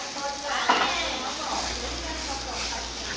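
Sausage sizzles over a barbecue grill fire, a steady crackling hiss that runs throughout at close range, with faint movement noises and a voice in the background.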